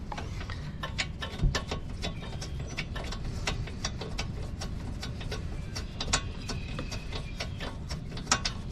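A ratchet clicks in rapid, steady bursts up close, tightening a spark plug back into a Toro snow blower engine, with a few louder knocks along the way.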